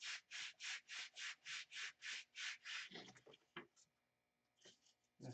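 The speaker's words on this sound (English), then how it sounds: "Gonna sand up to the line." Sanding block with 80 and 320 grit rubbed on wood, about ten regular back-and-forth strokes in a quick even rhythm, close and clear, then a few scattered scrapes and handling noises.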